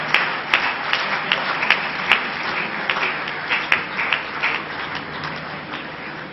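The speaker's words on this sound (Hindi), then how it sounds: "मैं चाहूंगा जोरदार तालियों से इस अमेरिकन गांधी का स्वागत किया जाए।" An audience at the Bharat Asmita National Awards 2008 ceremony gives loud applause to welcome a guest from America. The clapping is sustained, with several sharp individual claps standing out over the dense crowd.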